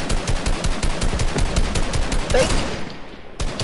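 Sniper rifle shots in an online shooter video game crack out in a rapid string of sharp bursts, loud and close, as players talk over the gunfire before a brief pause and one more shot.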